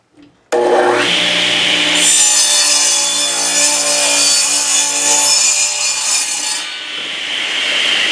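A power crosscut saw cuts along the grain of wood, a loud, steady, close whine and rasp that starts abruptly, swells briefly, and runs continuously for several seconds without talk.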